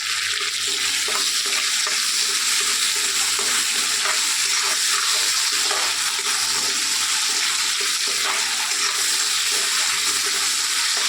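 Fish, cauliflower, tomato and potato fry in a pan with a loud, continuous, rushing sizzle and scattered crackles, close and steady, with no talking.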